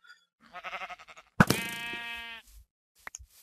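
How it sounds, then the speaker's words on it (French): Sheep in a video game on a PvP faction server give a short run of stuttering bleats, then one long, loud, clear bleat, with a few faint clicks after. "Encore des moutons."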